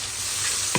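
Onions sizzle steadily in a hot pan with ginger-garlic paste, a close, continuous frying hiss with a brief stir or clatter near the end.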